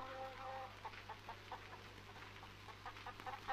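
Hen clucking softly in a series of short, irregular clucks, faint and close against a quiet background hum.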